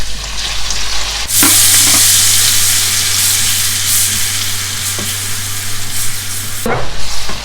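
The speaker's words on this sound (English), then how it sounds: "I'm going to add the remaining blended ingredients we prepared earlier on with a combination of spring onions inside the pot." Blended jollof rice ingredients and spring onions hit hot frying oil in a pot and burst into a loud, bright sizzle. The hiss holds steady and close for several seconds, with faint stirring scrapes, then drops away near the end.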